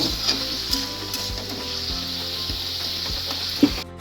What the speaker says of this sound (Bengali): এই ভাজাটা একটু ভেজে নিই আগে। গাজর, বিনস, পেঁয়াজ